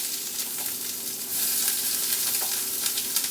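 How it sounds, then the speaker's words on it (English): Onions sizzle in a hot pan while being stirred, a steady crackling hiss that grows slightly louder partway through, with faint scraping of the spoon and no talking. "So I just put some onions and I'm going to stir it around."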